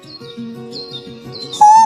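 A sparrow chirps in a cartoon kids' story, giving a run of bright, repeated tweets close and clear, ending in a louder, sustained high whistle.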